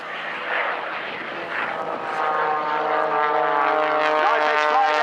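XtremeAir XA41 aerobatic propeller aircraft flying a display at an air show, its engine droning loudly and steadily with rising pitch as it manoeuvres, under a commentator's voice.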